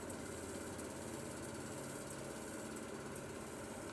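Air is pumped into old Sears Craftsman mower tires fitted with new valve stems, a steady droning mechanical hum and rush that runs unbroken and fairly faint throughout.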